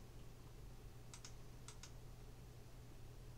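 Typing on a computer keyboard while drafting offset lines in a CAD program: four quick, quiet key clicks in two close pairs over a low steady hum, with no one talking.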